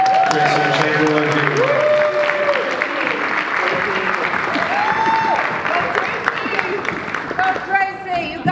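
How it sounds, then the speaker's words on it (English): An audience applauds a performer at a live performance event, sustained clapping with some crowd noise and voices over it throughout. "give her a big round of applause"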